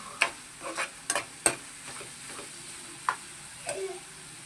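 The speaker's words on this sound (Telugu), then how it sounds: "ఇదంతా ఒకసారి బాగా కలిపేసుకొని" Tomato egg curry stirred in a pan with the oil separated, a spoon scraping and clinking in short irregular strokes over a faint simmering sizzle, close and fairly quiet.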